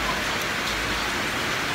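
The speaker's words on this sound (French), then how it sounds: "Et là, il pleut, mais de fou." Heavy rain pours down in Mauritius, a dense, steady hiss of water that fills the short stretch evenly with no break and no voices.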